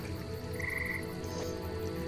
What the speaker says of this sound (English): there's a frog there